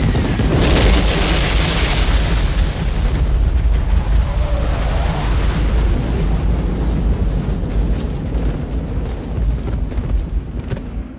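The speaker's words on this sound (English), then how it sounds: "It's a really expensive explosion, but it looks really good and it's real." A real napalm explosion from the film Apocalypse Now erupts with a massive, sustained boom, a roaring wall of low rumble and crackle that starts loud and slowly rolls away over several seconds.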